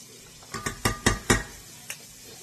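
Chopped onion dropping into a frying pan gives a cluster of five or six quick sizzling clatters about a quarter second apart, then one last softer hit, all close and without voices.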